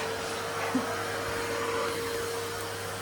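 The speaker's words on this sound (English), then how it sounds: "I'm going to get some vacuuming done." A household vacuum cleaner runs continuously, a steady loud whooshing drone with a constant tonal whine and no talking over it.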